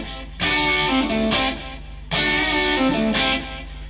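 Distorted electric guitar plays a barred, bending rock lick in the Dorian mode, two matching loud phrases repeated with a brief gap between them, played alone up close.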